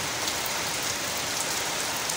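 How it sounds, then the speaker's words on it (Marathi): Rain falls in a steady, dense patter on surfaces, close and continuous, with no voices. "तर बघा कसा पाऊस येत आहे।"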